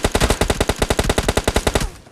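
Rapid automatic Uzi fire in a mobile battle-royale shooter game, a steady burst of about eighteen sharp, evenly spaced shots lasting nearly two seconds, loud and close, ending in a short decaying tail.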